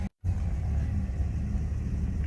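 Series 1 Jaguar XJ6 Daimler Sovereign 4.2 automatic pulling away on the road, a steady low engine rumble with broad road and cabin noise, continuous and close after a brief dropout at the start.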